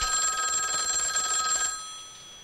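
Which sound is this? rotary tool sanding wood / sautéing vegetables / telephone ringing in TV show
telephone ringing in TV show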